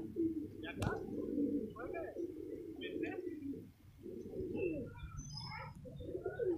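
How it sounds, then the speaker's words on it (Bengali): Two homing pigeons, a cock and a hen, just landed after a three-kilometre race flight, and they coo softly in low, repeated rolling phrases close by. Faint higher chirps from other birds sound in the background. "এইমাত্র কবুতর দুটো নামলো"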